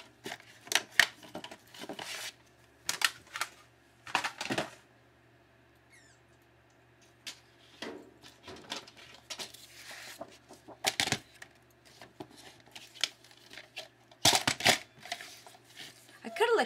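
Scissors cutting out a 6 by 7 paper piece for a Toy Story crafted mail project, a quiet, irregular series of sharp snips and paper rustles, spaced apart over a low background hum.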